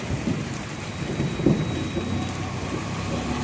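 Steady rain hisses down close by, with a brief sharper thump partway through, loud and constant with no speech.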